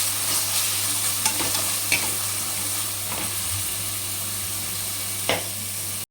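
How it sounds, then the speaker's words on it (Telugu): Mutton keema for cashew keema fried rice sizzles loudly and evenly in a pan, broken by occasional sharp scrapes of a spatula stirring the mince. "కీమాని బాగా వేయించుకోవాలి ఫ్రెండ్స్."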